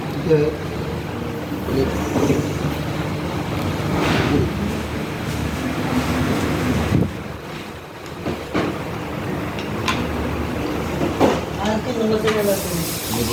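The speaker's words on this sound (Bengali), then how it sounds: "প্লেটটা লাগানো হলো, সেলাই করছি।" A Kansai PX302-4W picot sewing machine stitches fabric with a continuous mechanical whirring hum, fairly loud and close, while a voice talks over it.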